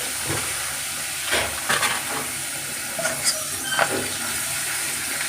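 Papad frying in very hot oil, a continuous close hiss and crackle with a few brief bursts of bubbling.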